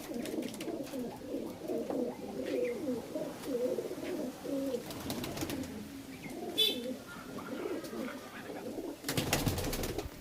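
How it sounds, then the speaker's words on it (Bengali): Teddy pigeons in a loft give low, soft, repeated cooing that rolls on steadily at moderate distance, with a few brief wing flutters and scuffs and faint background noise. "আমি আপনাদের সামনে দেখাতে চাই এক জোড়া টেডি, কবরা টেডি।"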